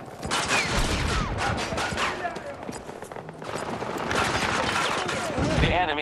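Rapid SMG fire in a Battlefield 2042 Conquest match, with dense, loud overlapping bursts mixed with battlefield explosions and clatter. Game voices call out over the fighting throughout.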